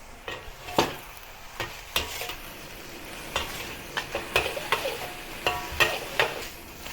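Carrot, chili, garlic, ginger and white spring onion stir-fried in a wok, steady sizzle broken by repeated scraping and clattering strokes of a utensil against the metal, with no talk.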